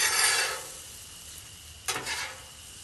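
A spatula scrapes and stirs cooked ingredients together on a hot Blackstone 36-inch flat-top griddle, with a long sizzling scrape at first and then a second shorter scrape, loud and close, with no voices.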